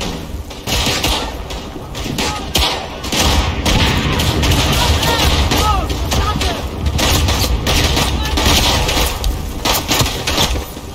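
A bomb blows up on the World War I battlefield of the video game Verdun, with heavy thuds and loud explosive bursts amid scattered gunfire. The rumbling combat noise keeps going, and a voice briefly exclaims over it.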